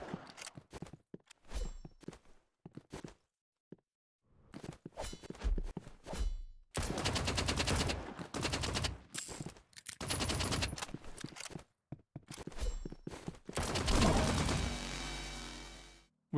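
Revolver fire in a competitive shooter: clusters of sharp, loud shots separated by short silences, with scuffing movement between bursts and a heavier run of firing near the end.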